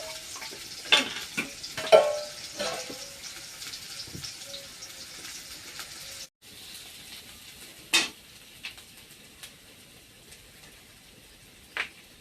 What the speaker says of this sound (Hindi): अभी जो कि यहाँ पर प्याज और लहसुन मर्चा कूट करके मैं भूज रही हूँ।